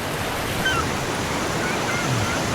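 Ocean surf at a Palawan campsite, heard as a steady, broadband roar of breaking waves with some wind rumble, constant and fairly loud with no distinct breaks.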